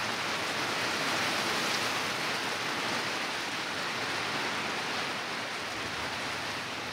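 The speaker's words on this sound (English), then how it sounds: "This is a rainstorm." Heavy rainstorm drumming steadily outside a lowered classic Winnebago Brave motorhome, a dense, loud, unbroken hiss of rain with no voices heard.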